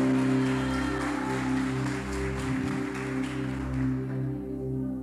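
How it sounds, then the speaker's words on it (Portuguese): A church congregation applauds during a sermon, a steady wash of clapping held under sustained keyboard or organ chords throughout. "dê para Ele esse aplauso"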